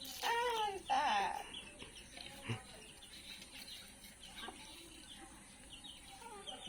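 Chickens and ducks being fed in a yard give clucks and bird calls that are loudest at the start and then sparse, with scattered chirps over background noise.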